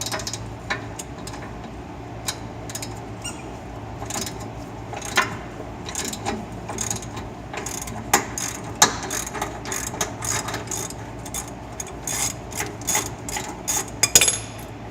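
A ratchet loosens bolts while a Jinma backhoe is being removed, with quick bursts of metallic clicking that start and stop irregularly over a quiet workshop background.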